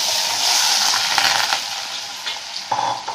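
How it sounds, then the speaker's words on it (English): Potatoes dropped into hot oil for a Bengali alu posto, a loud steady sizzle and crackle throughout with a few clinks of utensils near the end. "our oil is quite hot now, and now we will add the potatoes"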